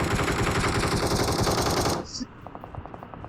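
Rapid automatic gunfire in a shooter video game, a loud continuous burst lasting about two seconds, then dropping to fainter repeated shots.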